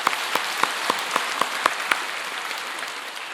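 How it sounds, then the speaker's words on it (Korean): A church congregation at a Sunday Thanksgiving service claps in unison, with about eight sharp rhythmic beats, then dissolves into sustained loud applause of thanks. "하나님께 감사 박수 올리겠습니다."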